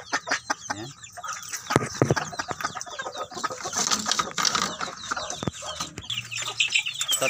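Labuyo roosters crow and hens cluck close by, with busy, scratchy rustling throughout.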